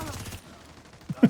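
Rapid bursts of video game gunfire, a quick rattling volley at the start followed by a quieter gap and two sharp louder shots at the end.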